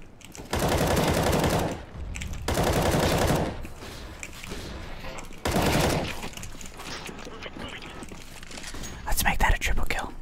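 Bursts of automatic gunfire from a first-person shooter video game, CS:GO, play on the Cache map: several sustained rapid volleys, fairly loud, with a quiet voice speaking between and under them.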